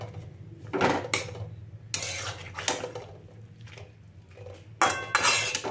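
A metal lid clanks onto a cooking pot of vegetarian bottle-gourd greens over a high flame, with several sharp, close clatters of pot and lid spaced across the moment against a low kitchen hum.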